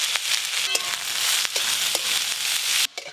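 Cumin seeds and chopped onion sizzle in hot white cooking oil, a loud, steady close frying hiss with small pops and crackles throughout, cutting off abruptly near the end.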